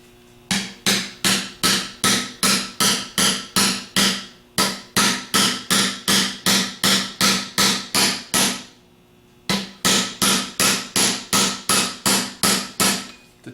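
A 3/4 socket taps a slip ring down onto an alternator rotor during a 3G alternator rebuild, a close, loud series of sharp metallic taps in quick regular runs, broken by brief pauses.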